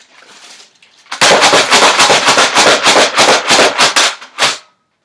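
A Nerf blaster fires in rapid succession, the trigger held while the slide is pumped, giving a dense burst of sharp plastic pops and thumps close to the mic for about three seconds after a quieter lead-in.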